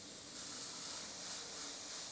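Airbrush spraying paint at low PSI, fogging a soft line away from a hand-held shield; a steady, close, continuous airy hiss runs throughout with no voices.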